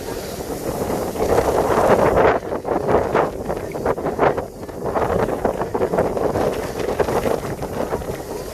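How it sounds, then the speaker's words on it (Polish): Strong wind blasting across Elafonisi beach on Crete, a loud steady roar buffeting the microphone in continuous gusts, with no voices. "Tutaj bardzo mocno wieje."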